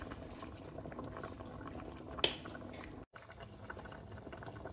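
Chicken kabsah stew with bay leaves boils in a pot, making a close, continuous bubbling and popping patter. One sharp click stands out midway, then the sound cuts out for a moment before the boiling resumes.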